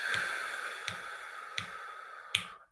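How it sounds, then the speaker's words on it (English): Breath released out by a choir group during a warm-up, a long airy exhale fading over a couple of seconds with small clicks, no voices. "And then breathe out."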